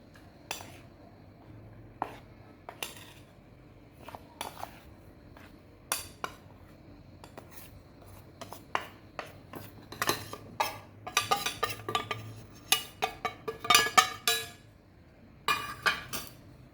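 A metal spoon clinks and scrapes against a cooking pot as refined flour, wheat flour and semolina for malpua are tipped in, giving scattered sharp taps and clatters, close and fairly quiet, with busier clinking toward the end.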